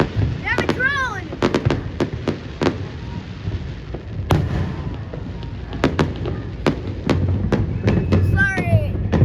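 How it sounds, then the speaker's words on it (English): Booming and crackling New Year fireworks bursting overhead, with repeated sharp reports at irregular intervals, mixed with whistling rising shells and people talking and cheering nearby. "we have fireworks"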